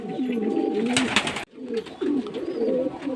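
Breeding pigeons kept as main-line parent birds, giving soft repeated throaty coos close by, with a short break midway before the cooing resumes.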